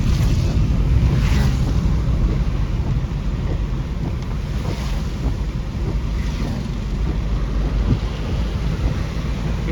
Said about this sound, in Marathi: खूप सुंदर पाऊस चालू आहे